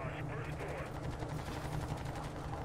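Rapid bursts of gunfire from the video game Crysis 2, a dense continuous volley running throughout at steady loudness, with a voice talking over it.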